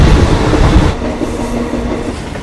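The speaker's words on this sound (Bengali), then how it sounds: "ট্রেন কিন্তু একদম নির্দিষ্ট সময় ৯:৫৫-তে ছেড়ে দিল হাওড়া থেকে কালকার উদ্দেশ্যে দীর্ঘ ২৯ ঘন্টার জার্নি।" The Howrah–Kalka Netaji Express pulls out of Howrah station, a loud close rumble of wheels and carriages with clattering rail noise, heavy at first and then settling into a steady roll.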